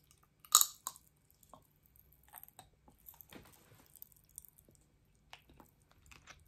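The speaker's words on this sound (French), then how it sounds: "Ça croque." Close, quiet crunching and chewing of an orange-flavored Harry Potter chocolate candy with popping sugar bits, with scattered crisp cracks and soft mouth sounds over near silence.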